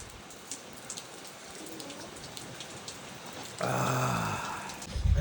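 Steady rain falls in a monsoon setting, a continuous soft hiss throughout, joined partway by a louder, fuller burst of sound that carries to the end.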